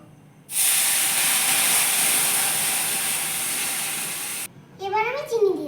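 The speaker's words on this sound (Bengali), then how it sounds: "ভাজা হয়ে গেছে, এবার আমি জল দিয়ে দেব।" Water poured into semolina roasting in a hot pan with turmeric and salt sets off a sudden, loud, sustained hiss of steam that cuts off after about four seconds. A voice follows.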